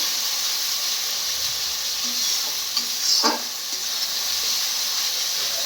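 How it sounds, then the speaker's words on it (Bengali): Spice masala fries in a pan with a steady, moderate sizzling hiss, broken only by a few faint clicks and one brief stir or scrape near the middle. "ভালো করে ভেজে মশলাটা তারপরে মশলার জলটা দিয়ে দেবো।"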